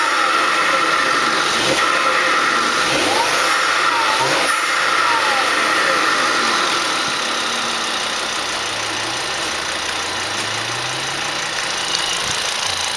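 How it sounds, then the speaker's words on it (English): A 2005 Volvo V70 2.5T with a modified intake revs up and settles back, the engine and intake noise close and steady, with rising and falling engine tones over a constant hum. "But with the real ticket is when you actually rev the engine."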